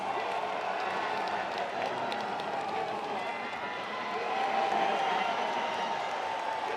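A large crowd roars and claps steadily for the Mountain's second lift attempt at a strongman contest, a dense, continuous wall of cheering that swells slightly near the end.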